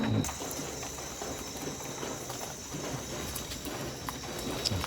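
Horses in a stable shuffle and clop on the ground, soft irregular hoof knocks at a moderate distance over a steady background hum, with faint bird calls.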